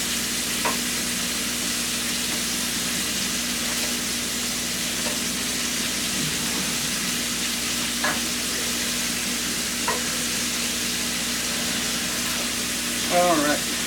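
Shrimp sizzle steadily in a hot pan for shrimp scampi, a constant even frying hiss with a few faint clicks and stirs, no talking over it.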